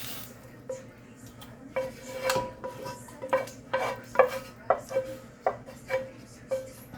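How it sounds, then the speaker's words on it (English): An onion and bacon mixture goes into a pot and gets stirred, with repeated clinks and scrapes of a utensil against metal at a near, moderate level, some of them in a steady rhythm, over low kitchen background hum. "Then we're going to add our mixture, our onion and bacon mixture in there."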